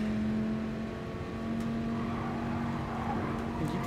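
Dodge Viper race car engine in GT Sport on the Dragon Trail circuit: a steady, loud engine drone holding a sustained pitch, rising slightly and shifting as it revs near the end, with no talk.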